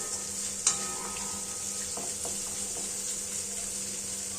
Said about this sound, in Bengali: সমস্ত উপকরণ খুব ভালোভাবে মিলিয়ে মিশিয়ে নেব।